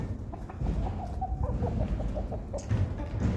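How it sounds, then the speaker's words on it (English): Chickens cluck in a steady, busy run, with a rooster-like call rising among them over a low outdoor rumble. "Was that a rooster?"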